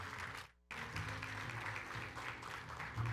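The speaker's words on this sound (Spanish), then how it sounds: "Dê um forte aplauso ao Senhor" A church congregation applauds in praise after a healing prayer, a dense wash of many hands clapping that briefly drops out near the start, then continues steadily at moderate loudness.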